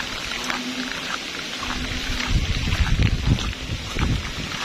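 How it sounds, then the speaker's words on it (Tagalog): Strong typhoon wind from Typhoon Kristine in Camarines Sur, Bicol, roars as steady broadband gusting with low rumble, swelling louder midway, with no voices. "Sobra pong hangin."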